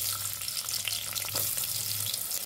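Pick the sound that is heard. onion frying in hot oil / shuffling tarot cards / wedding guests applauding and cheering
onion frying in hot oil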